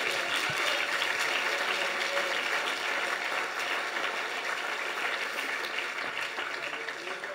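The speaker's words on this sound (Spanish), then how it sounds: "Un aplauso al Señor." Church congregation applauding during a sermon: dense, continuous clapping that fills the room at steady volume and eases slightly toward the end.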